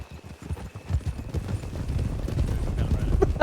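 Horse hooves clip-clop in a rapid, steady rhythm across loose ground in a Red Dead roleplay video game, a galloping patter close and continuous, with occasional clinks and someone talking over it.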